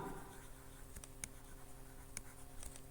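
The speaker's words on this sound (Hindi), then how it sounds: "मैं यहाँ आपके सामने एंट्री लिखता हूँ" Marker or chalk strokes on a board while an accounting entry is written, faint scratchy ticks in a quiet room, a few sharper taps between soft continuous scraping.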